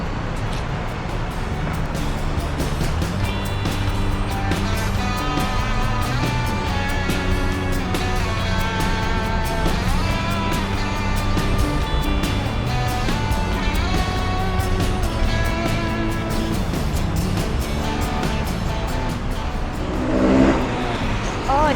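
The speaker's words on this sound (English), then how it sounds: "so many traffic in here, and you can see so many motor cars and motorbikes in here" Heavy road traffic of cars and motorbikes on wide Asok Montri Road in Bangkok, a continuous dense engine roar with passing vehicles and rising revs, loud and steady throughout, with no talk over it.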